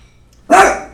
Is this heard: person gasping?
no